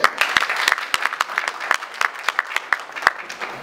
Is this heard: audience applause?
yes